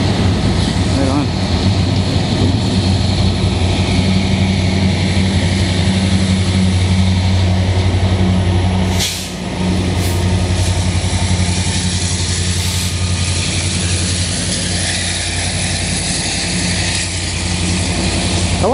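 A CN freight train passes in the rain, with its locomotive engine running; a loud, steady rumble and low engine drone fill the whole stretch, with one short dip midway.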